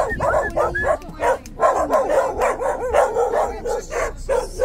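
Several pit bulls bark repeatedly and loudly up close, sharp overlapping barks with a few yips mixed in, a steady rapid rhythm throughout.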